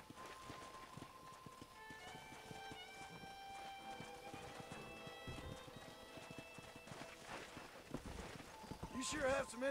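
Horse hooves clip-clop in Red Dead Redemption, a steady run of rhythmic hoofbeats with an occasional whinny, accompanied by game music and a brief louder rush near the end.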